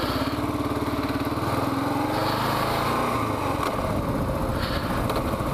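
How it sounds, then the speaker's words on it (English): Kawasaki KLR650 single-cylinder dual-sport motorcycle labouring up a hill without the clutch, a steady close engine thrum with pulsing low firing and a slight rise in pitch, running continuously with no talk. "get the bike up here on this hill without using the clutch"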